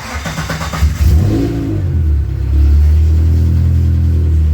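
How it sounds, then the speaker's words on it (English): Dodge Neon stock car engine cranks briefly and catches, then revs up and settles into a loud, steady low rumble that holds to the end with no talking. "So let's crank it back up and hope it doesn't crap out when it warms up again"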